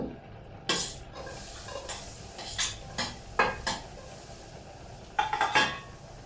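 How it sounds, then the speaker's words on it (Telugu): Green chillies frying in a clay pot: a soft background sizzle under a series of sharp scrapes and clinks from a spoon, coming in uneven bursts close by. "రెండు మిరపకాయలు కూడా తొడియాలు తీసేసి వేయించుకోవాలి"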